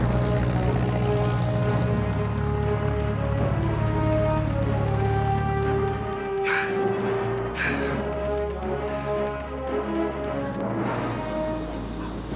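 A Cessna light propeller airplane drones steadily in flight, a continuous engine hum with shifting tones that holds throughout at moderate loudness, with no talk.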